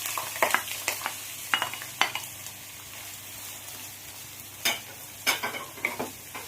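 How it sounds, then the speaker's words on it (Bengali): Three large chopped onions fry in hot oil with whole spices for mutton kosha, a steady sizzle broken by bursts of scraping as a spoon stirs the pan, close and with no talk. "এবার আমি খুব ভালো করে পেঁয়াজটা লাল লাল করে ভেজে নেব।"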